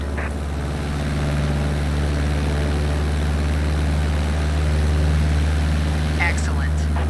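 A propeller airplane engine drones steadily in Microsoft Flight Simulator, a constant low hum cruising near 2300 RPM at 5500 feet, with a brief faint chirp near the end.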